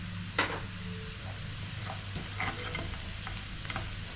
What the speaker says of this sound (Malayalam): ചെറിയുള്ളിയൊക്കെ ഗോൾഡൻ ബ്രൗൺ ആയി തുടങ്ങിയിട്ടുണ്ട്